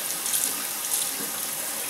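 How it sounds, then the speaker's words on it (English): Warm tap water runs steadily from a faucet to rinse a cotton air cleaner for a Dellorto/Weber carburetor, an even, close splashing hiss with no voices. "I get my water going here, just kind of warm, and you don't have to have it blasting away"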